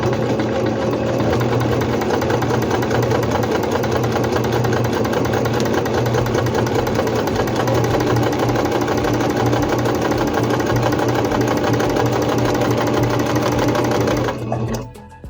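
Singer C5605 electronic sewing machine stitching fabric, a loud continuous rapid mechanical whir and knock running close up for about fourteen seconds before slowing and stopping.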